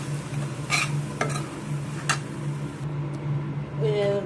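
Low sizzling in a pan as coriander powder and turmeric sauté for vada curry, with occasional scraping stirs and clicks, close by; a faint voice murmurs near the end.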